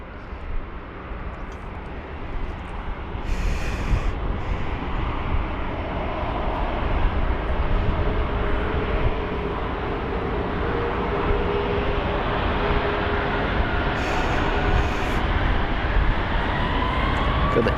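A Boeing 777-200ER airliner on the runway at London Heathrow, a steady broad engine roar building slightly and holding for many seconds, heard from a distance with a faint high whine.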